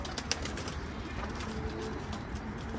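Zubairi pigeons coo on a rooftop loft, soft low repeated calls mixed into a busy, noisy background with no talking.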